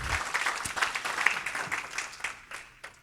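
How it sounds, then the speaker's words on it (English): Audience applause from a seated crowd at a talk, a steady patter of clapping that holds at moderate level for a few seconds. "So one more round of applause, please, for yourselves."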